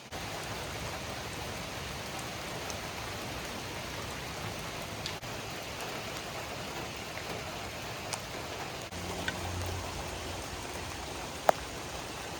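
Heavy rain pours down outdoors in a steady, dense hiss that holds at an even level throughout, with a few faint sharp ticks and no voices.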